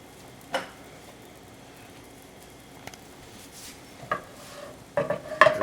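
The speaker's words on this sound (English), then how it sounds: "We're going to start sauteing our onions" Onions go into melting cultured French-style ghee in a pan and start to sauté, giving a faint, soft background sizzle broken by a few sharp clinks and scrapes of a utensil against the pan, with a cluster of clatters at the end.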